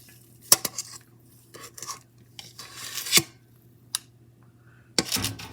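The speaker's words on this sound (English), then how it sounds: "I like to use this scoop to scoop the cookie dough" Metal scoop scraping and knocking through thick peanut butter cookie dough in a bowl, a few short uneven bursts of scraping with clicks between, close and moderately loud with no talk.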